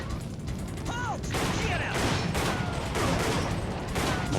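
Rapid bursts of arcade light-gun gunfire from the video game Time Crisis, loud and continuous with repeated volleys of shots and some game effects, heard close and steady throughout.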